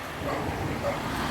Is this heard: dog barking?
yes